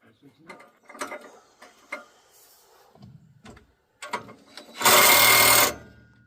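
Scattered clanks and knocks around a non-running go-kart lead into a short burst from a power drill that runs loud and steady for about a second before stopping.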